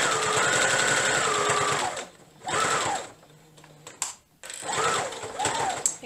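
Sewing machine stitching fleece forward and back, three close bursts of rapid mechanical chatter separated by short pauses, with faint handling clicks in between.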